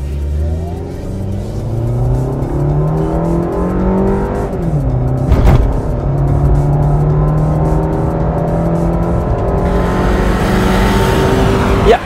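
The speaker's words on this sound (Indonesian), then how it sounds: "langsung aja kita tes akselerasinya ya" A 1500 cc car launches hard from a standstill to 100 km/h with traction control off, its engine loud and close, revving up through rising sweeps with gear changes dropping the pitch between pulls.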